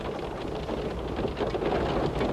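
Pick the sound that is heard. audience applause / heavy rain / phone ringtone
heavy rain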